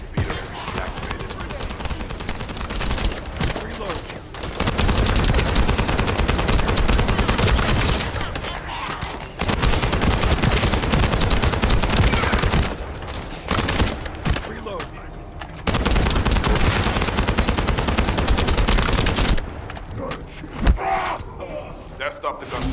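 Bursts of rapid gunfire from the video game The First Descendant come in long volleys separated by brief pauses, loud and sustained.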